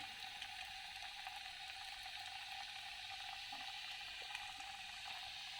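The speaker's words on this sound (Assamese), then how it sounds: "এতিয়া তেল গৰম হৈ গ'ল আৰু মই এইখিনি দি দিম ইয়াত এটা এটা" Food frying in hot oil in a pan over a low gas flame, a steady close hiss and crackle running unbroken without any voice.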